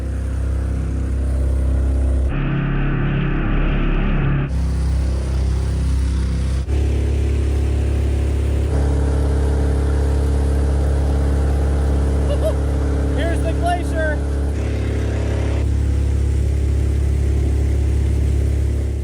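A Mokai jet-powered kayak engine runs after a restart outdoors in Alaska, a loud, close, continuous motor drone with a few brief shifts in pitch and load.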